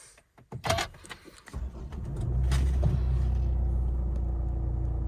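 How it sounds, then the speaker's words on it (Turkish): A Mercedes X-Class 250 d pickup's diesel engine starts after a few cabin clicks and thumps, catching with a rising rumble that settles into a steady, close idle. "Evet şöyle aracı çalıştıralım."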